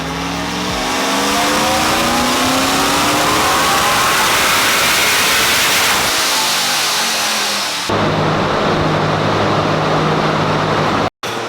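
Chevrolet TrailBlazer SS engine screams through a loud dyno pull, revs climbing steadily in a long sweep before cutting off and settling into a rumbling idle-down, no talking.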